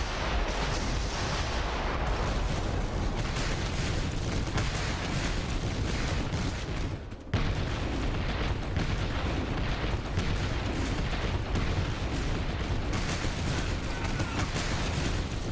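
Dense Civil War artillery barrages in a Gettysburg strategy video game, a continuous rumbling wall of cannon booms and gunfire with a brief lull midway, under a voice.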